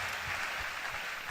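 A church congregation claps together in steady, broadband applause that fills the whole moment without letting up.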